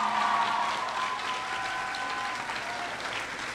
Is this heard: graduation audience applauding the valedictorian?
yes